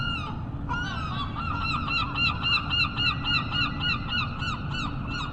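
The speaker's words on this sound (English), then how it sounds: "Classic seagulls." Gulls calling outside Scarborough Library in late August, a steady chorus of repeated harsh honking cries layered over constant low urban rumble, fairly close and continuous throughout.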